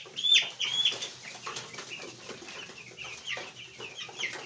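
Chicks and young poultry on a poultry farm, a steady mass of high, overlapping chirps and peeps with occasional clucking, fairly close and continuous with no voices.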